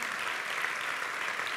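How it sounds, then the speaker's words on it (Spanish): Congregation applauding during a Spanish-language church sermon, a steady wash of many hands clapping together at moderate distance, fairly even and sustained with no one speaking over it. "Y entonces, denle el aplauso a Dios."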